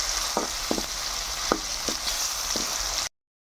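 Onions fry with ginger paste in a pan for tuna curry, a constant close sizzling hiss broken by several sharp stirring scrapes, then cutting off abruptly into silence.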